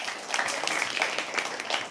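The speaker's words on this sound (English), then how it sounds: "Start clapping, start clapping." An audience at a live poetry open mic claps in a loose, steady patter, the sound moderately loud and continuous throughout without any talking.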